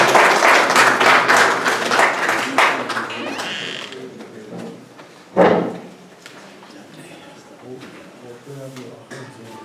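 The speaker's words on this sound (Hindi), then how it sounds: "आप इस्तकबाल कर सकते हैं तालियों में।" Audience at a mushaira, a poetry gathering in New Jersey, applauding to welcome a poet, with dense clapping over the first few seconds that fades into room noise and a single loud knock.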